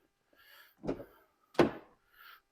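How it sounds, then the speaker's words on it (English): A BMW X5 has its doors opened one after another, two distinct thunks of latches and swinging panels with quieter handling rustle between them. "open up both doors."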